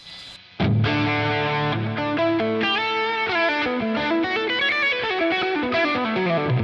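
A Stratocaster electric guitar through a dual Dumble amp preset set at the edge of breakup plays a sustained chord, then runs of slightly gritty, effects-tinged notes, loud and up front with no talking.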